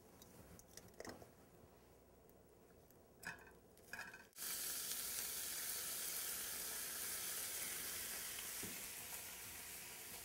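Seafood dropped into a hot pan, first a few light clicks and taps, then a sudden loud sizzle that stays steady and close.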